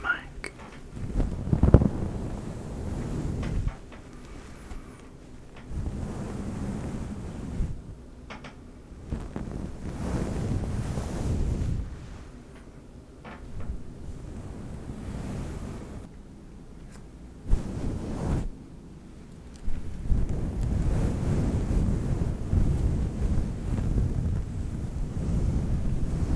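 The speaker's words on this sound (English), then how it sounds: "I wonder what it sounds like brushing on the mic." A brush rubbing across a microphone during a holiday-themed furry ASMR session, giving a long, close, breathy scraping and swishing that rises and falls in uneven sweeps, with occasional soft bumps.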